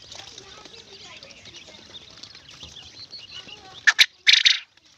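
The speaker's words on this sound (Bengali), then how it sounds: "কোয়েল পাখির ডাকটাও কিন্তু খুব সুন্দর লাগে" A quail kept at a village home lets out a few short, sharp, loud calls close by near the end, after a stretch of quiet background with faint talking.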